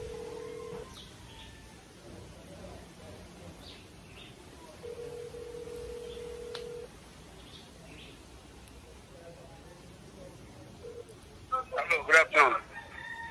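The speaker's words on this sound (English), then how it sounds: "I call one different number." A phone call being placed: a long steady ringback tone, a pause, then another sustained ring tone, with a burst of louder electronic chirping near the end.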